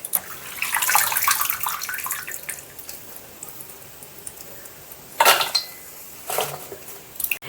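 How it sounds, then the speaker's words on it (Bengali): Leafy greens are washed in water in a bowl in a village home kitchen. Close, gentle splashing and swishing sounds mix with light clinks of the bowl, and two louder splashing bursts come near the end. "শাকগুলো ভালো করে একদম ধুয়ে নিয়ে একটা বাটির মধ্যে রেখে নেব।"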